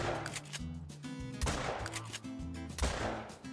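Shotgun blasts ring out in a hunting video game while hazel grouse flee on the Revontuli Coast, several loud booming shots in quick succession over layered game sound.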